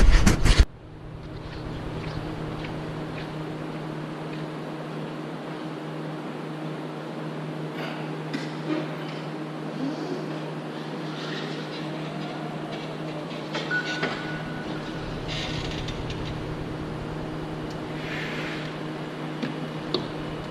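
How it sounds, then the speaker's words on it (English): A Mach 1 Saran stretch wrapping machine wraps a pallet, opening with a loud, close burst and then settling into a steady mechanical drone with a low whir and scattered faint creaks. "how to use this Mach 1 Saran wrapping machine"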